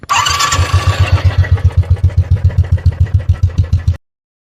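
A Royal Enfield Bullet motorcycle starts with a brief crank, then settles into a loud, close, evenly spaced single-cylinder thump at idle before cutting off abruptly.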